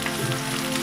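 Fish cooking in butter with its juices and a squeeze of lemon gives a brief, steady close sizzle with a fine crackle.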